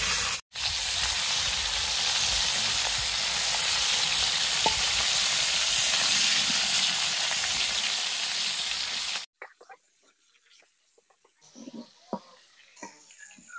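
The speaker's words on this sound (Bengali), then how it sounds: "এবার মাছটা আমি ভালো করে ভেজে নেবো।" Pieces of snakehead (shol) fish fry in hot oil, giving a loud, dense, continuous sizzle for about nine seconds, then it cuts to quieter kitchen clatter.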